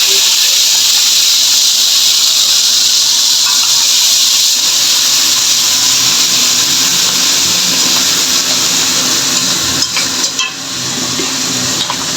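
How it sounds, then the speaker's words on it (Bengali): Cumin seeds tempered in hot oil produce a steady, loud hiss and sizzle that runs the whole time, with a brief clatter near the end. No voices are heard. "ফোড়ন দিয়ে দিচ্ছি জিরা আছে একটু জিরা ফোড়ন দিচ্ছি"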